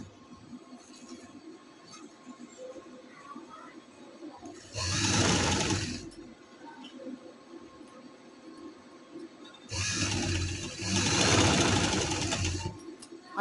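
Sewing machine stitching lace onto a winter daman, running in two loud close bursts of rapid whirring, the second longer, with a quieter room hum between them and no talking.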